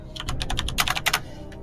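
Quick bursts of clicking keystrokes on a computer keyboard, about a dozen close, crisp taps in uneven rhythm, with a final lone tap after a short pause.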